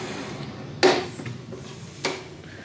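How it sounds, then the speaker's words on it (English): A sliding barn-door style door in a hotel room, heard as two sharp wooden knocks or bumps about a second apart, each followed by a brief slide, moderately close in a quiet room. "There's a barn door style door here"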